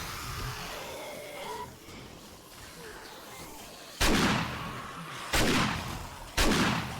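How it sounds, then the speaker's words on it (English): Three heavy shotgun blasts boom in 7 Days to Die, spaced roughly a second apart in the latter half, each a loud sharp crack with a trailing decay, following a quieter stretch of ambient game noise. "so we're gonna shotgun blast them now"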